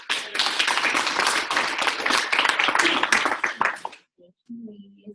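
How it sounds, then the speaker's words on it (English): Applause from a team training audience: a dense burst of clapping for about four seconds that stops abruptly, followed by a short bit of quiet talking. "Can we get another round of applause?"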